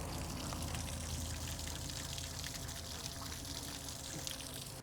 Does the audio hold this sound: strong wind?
no